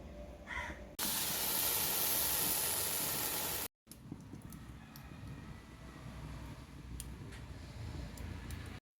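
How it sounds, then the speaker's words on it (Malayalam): Fish curry boils in a pot on the stove, a loud hissing burst of steam and bubbling followed by a softer, steady simmer. "കറി നന്നായി തിളച്ച് വന്നിട്ടുണ്ട്."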